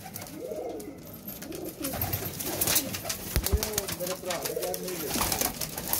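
Pigeons coo repeatedly at close range, their soft rolling calls overlapping in a busy, noisy outdoor setting, with faint voices in the background.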